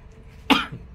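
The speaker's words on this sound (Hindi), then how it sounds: "बाप रे खांसी हो रहा है ना आज" A single sharp cough bursts out close by in a home kitchen while kadhi and rice are being cooked, with quiet background before and after.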